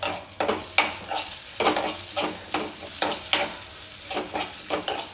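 Moong dal cooking in a pan with a utensil stirring it, a steady run of close scraping strokes in irregular rhythm over a soft sizzle, no voices.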